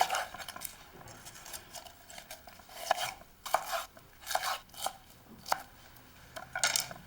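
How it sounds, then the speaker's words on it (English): A knife thinly slices red and yellow bell peppers on a cutting board in a rustic Italian villa cooking-school kitchen, giving a series of crisp, irregular taps, close and clear with no talking. "Slice up everything nice and thinly."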